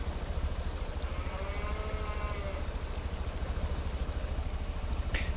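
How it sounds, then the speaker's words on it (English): A self-powered fountain keeps up a continuous trickle and pour of water, steady and fairly close, with faint tonal wavering and a brief sharp splash near the end. "It has such nice trickling sound all the time."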